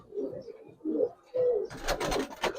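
Giribaz and coloured pigeons coo in soft, throaty, repeated calls close by, and a burst of rustling or flapping joins in near the end.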